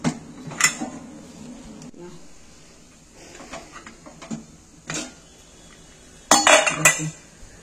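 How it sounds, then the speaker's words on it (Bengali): Pan being covered with a lid while cooking a semolina and potato breakfast dish, scattered metallic clinks and knocks with a louder clattering burst near the end. "এবার আমি এটা চাপা দিয়ে দিচ্ছি।"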